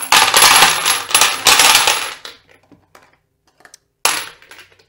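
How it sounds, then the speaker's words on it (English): Twenty-five pieces of brass cartridge casing are poured into a metal tumbler, making a loud, close metallic clattering cascade that dies off into a few scattered clinks, followed by another short rattling pour. "go ahead and pour in the brass"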